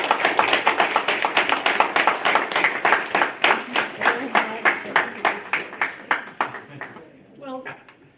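Applause after a keynote speech at the 2025 SPJ Region 9 conference: crisp, evenly spaced claps, close and fairly loud, that thin out and stop near the end.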